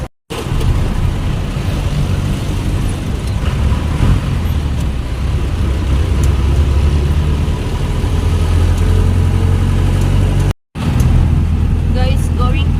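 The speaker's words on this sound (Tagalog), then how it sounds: "Gagawa tayo ng video habang tumatakbo ang jeep" A jeepney running along a road, heard from the front seat: a steady mid-pitched engine drone with road and traffic rumble, loud and continuous, broken by one brief dropout.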